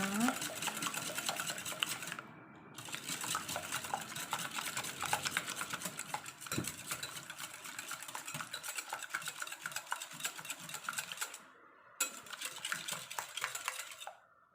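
Eggs being beaten together by hand for a sugar-free sponge cake batter, a busy rapid clatter of utensil against bowl running nearly continuously, with two brief pauses.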